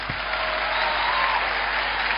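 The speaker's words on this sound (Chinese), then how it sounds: "掌声有请。" An audience at a live crosstalk comedy show claps in a steady, dense burst that holds at an even level throughout with no one speaking.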